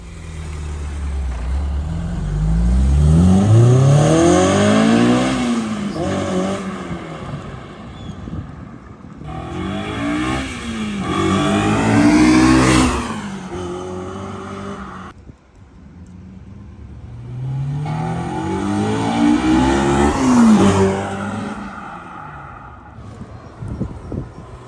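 A Honda S2000 engine with a titanium twin loop exhaust revs up three times in long swelling bursts, its exhaust roaring up and down in pitch, loud and close with short pauses between.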